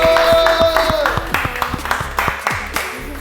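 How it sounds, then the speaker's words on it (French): A film crew applauds at the wrap of a music-video shoot, a burst of several people clapping close by in quick uneven rhythm, with a brief voice or tone at the start before the claps take over. "Je pense qu'on peut s'applaudir les gars."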